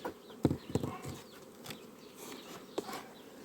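Bees buzz steadily inside an opened beehive, a dense hum close by, broken by a few sharp knocks and bumps from handling the hive frames.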